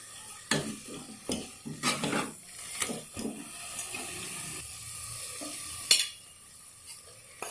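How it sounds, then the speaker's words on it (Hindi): Maize flour being stirred little by little into mixed greens saag of spinach, bathua and mustard leaves, a series of close scraping and stirring strokes with soft sizzling between them, fairly quiet, no speech. "पहले इसे थोड़ी थोड़ी डाल करके मिलाएंगे"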